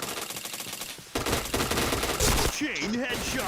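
Loud rapid gunfire from a shooter video game, a dense rattling burst that stops briefly near the first second, then resumes alongside game effects and a rising tonal sound.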